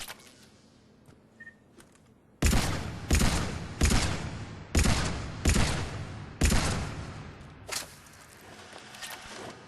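Carnifex heavy pistol firing at a target range in Mass Effect 3: about seven loud, sharp shots spaced roughly a second apart, each with a short ringing tail, after a few faint clicks.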